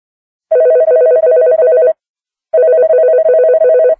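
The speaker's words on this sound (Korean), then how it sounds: "따르릉, 전화 왔어요. 전화 받으세요." A telephone rings with an electronic trilling bell in two bursts of about one and a half seconds each, separated by a short silence, loud and close.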